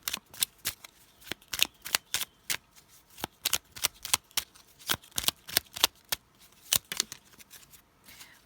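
Tarot character trait cards are shuffled by hand in quick, crisp riffling bursts, close and repeated with short pauses between, no talk over them.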